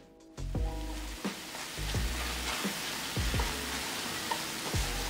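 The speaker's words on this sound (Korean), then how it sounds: "고소한 들깨가루 크게 1스푼과 반 스푼 잘 섞어주면서 1분 정도 볶아주고" Seaweed and oyster mushrooms stir-fried with perilla powder in a pan, a steady close sizzle broken by repeated low scraping knocks of a spatula as the ingredients are tossed and mixed.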